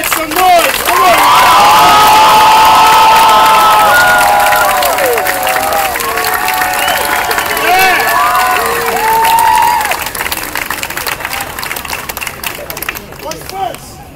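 A large outdoor crowd at a human jump-rope street show cheers, whoops and claps loudly, with children's shouts mixed in, a near, sustained roar that fades slightly toward the end.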